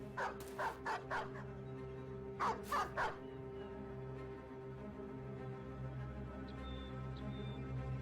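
A dog in the Battle Brothers game barks in two quick bursts of three or four loud barks over a constant low background hum, followed by faint high yips near the end.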